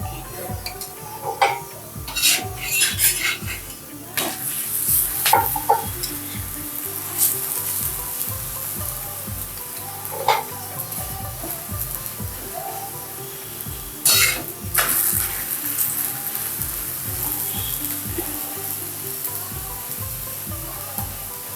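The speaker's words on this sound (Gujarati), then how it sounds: "એટલે આપણે ઘીમાં શેકીએ છીએ" A rajma paratha roasts in ghee on a pan with a continuous sizzle, broken by occasional scrapes and taps of a spatula against the pan.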